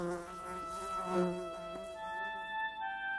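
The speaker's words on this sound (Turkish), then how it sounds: "Sinekler ağzının çevresinde, yaralarının çıbanların üzerindeydi." Flies buzz in a documentary sound effect about the Gallipoli campaign trenches, where they swarmed around soldiers' mouths and sores, a continuous droning hum with several insects close by, steady and fairly quiet with no talk.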